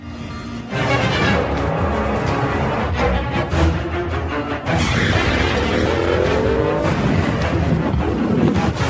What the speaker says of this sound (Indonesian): Johnny merubah sebuah truk menjadi Hell Truck, lalu menabraki beberapa mobil